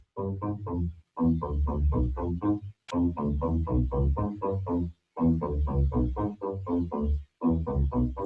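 A synthesizer in Ableton plays rhythmic, evenly pulsed chord notes in bursts, with brief pauses between phrases that leave moments of silence.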